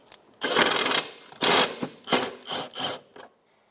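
Ratchet with an 11mm socket drives self-tapping tin screws into plastic body trim on a 2008-2012 Jeep Liberty corner light, giving several short bursts of mechanical clicking with brief pauses between them, close and fairly loud.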